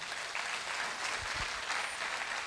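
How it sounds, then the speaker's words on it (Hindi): Audience applause at a Safe Shop leaders' motivational event in India, a steady wash of many hands clapping, fairly distant and even, with no talk over it. "हम चाहेंगे जोरदार ताली हो जाए।"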